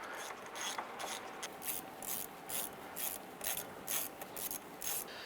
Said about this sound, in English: go ahead and grab your ratchet, and you can use these three bolts to evenly pull that hub into the knuckle